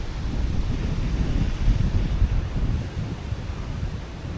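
Strong wind buffets a jungle campsite, a loud continuous rush with gusting surges and heavy microphone rumble.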